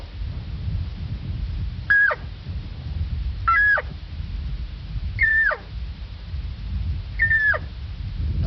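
Four spaced, whiny descending calls from a voice imitating a lost elk cow trying to rejoin the herd, each short and strained, close up over steady low rumble.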